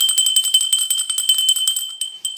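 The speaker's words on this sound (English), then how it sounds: "I've got my Deborah bell" A small hand bell ringing, with rapid repeated bright metallic strikes in a quick jingling rhythm, close and fairly loud, trailing off near the end with no talking.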